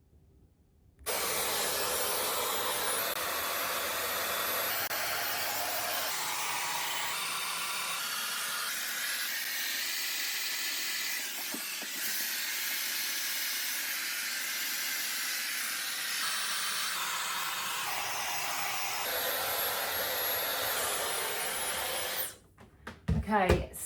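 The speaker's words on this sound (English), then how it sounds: "So I'm now gonna blow dry it." A hair dryer blows hair dry in a continuous loud rushing hiss, close by, with its pitch shifting gently as the dryer moves, then it switches off near the end.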